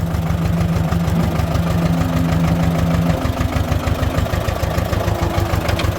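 A small tractor engine idles steadily up close, its rapid even chugging pulses continuing without a break.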